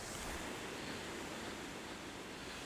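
Waterfall rushing near a bridge, heard as a loud, continuous broadband roar of falling water, steady and enveloping, with some wind buffeting and no voices.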